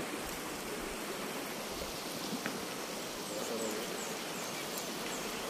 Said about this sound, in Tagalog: Ayan, ang ilog. Ang ganda ng agos.